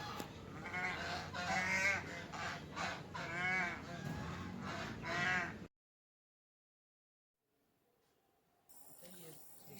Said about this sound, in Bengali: এগুলো রাজহাঁস